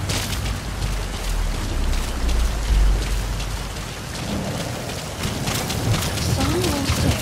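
Steady rainfall in the stealth video game Metal Gear Solid V during a night mission, a dense, continuous hiss with low rumbling underneath, loud and close throughout, with a faint tone rising near the end.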